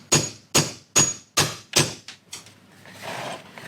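Five sharp, evenly spaced hammer blows drive a rivet through a saddle's stirrup leather on a workbench, each a crisp close strike, followed by a softer scuffing rustle.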